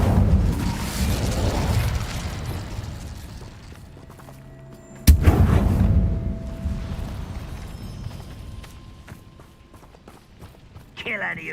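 A fire spell is cast in Hogwarts Legacy, a sudden loud burst that booms and then rumbles away over several seconds, following earlier roaring effects, with voices speaking in between.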